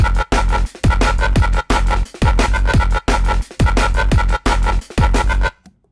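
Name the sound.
chopped-up neurofunk synth bass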